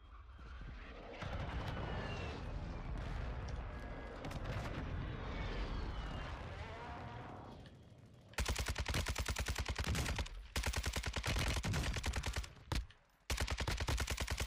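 Gunfire in Call of Duty Warzone on Ashika Island: a rumbling, busy stretch gives way to loud, rapid automatic bursts with a few brief pauses, close and dominant, no speech.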